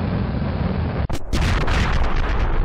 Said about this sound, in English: new explosion effect